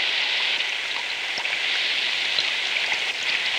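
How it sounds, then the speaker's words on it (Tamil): Steady rain falls in a Tamil film scene on a hillside road, a soft, even hiss with scattered drops tapping nearby, fairly quiet and continuous with no voices. "மழை வேற பெய்து"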